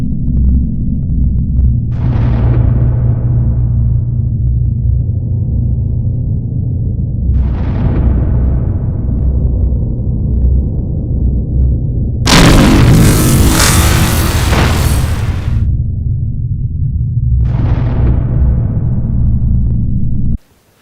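A deep, continuous rumbling drone punctuated by several booming bursts, with one long roaring blast in the middle, like a massive fiery explosion.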